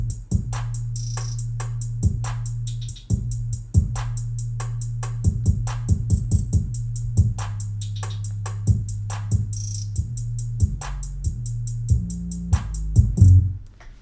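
Programmed drum break closing a self-produced beat: punchy kicks and snare hits in a steady loud pattern over a sustained low bassline, with a brief fill and cut near the end.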